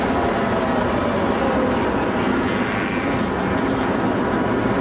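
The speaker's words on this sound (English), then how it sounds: "You are in an electric car." ProEV's Electric Imp electric race car runs at speed on its qualifying lap at Moroso, a steady, loud broadband whine and rushing wind noise heard from on board with no break.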